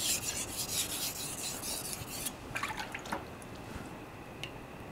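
A knife blade rasps back and forth across a whetstone while a secondary bevel is sharpened, a run of steady close strokes that breaks into lighter, scattered scrapes, with no voices.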